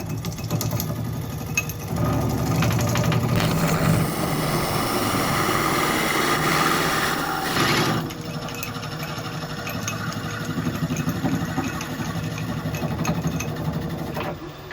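A wood lathe spins a natural-edge redwood bowl while a gouge hollows out the centre, the steady motor hum overlaid by a rougher, louder cutting rasp for several seconds midway before settling back to the drone.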